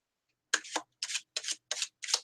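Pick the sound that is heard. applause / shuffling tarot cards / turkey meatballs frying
shuffling tarot cards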